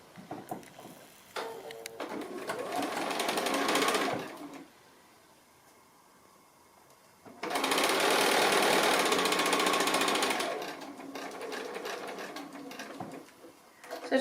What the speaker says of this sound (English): So now I'm doing my 1/4 inch seam